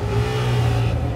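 A car engine from the racing video game Forza 6 revs in a steady, loud, somewhat cartoonish drone that holds constant pitch throughout, with nothing else audible.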